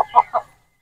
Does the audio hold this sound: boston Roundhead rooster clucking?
yes